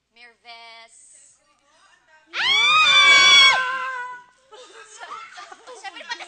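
Several people scream together in a loud, sustained burst lasting about two seconds, preceded by brief laughter and followed by excited overlapping voices and chatter.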